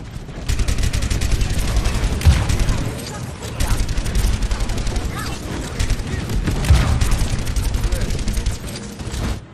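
Gunfire in a team shooter game, rapid bursts of shots with mechanical clanks and an occasional boom over ongoing game audio. Loud and steady for most of the stretch, and a voice talks over it.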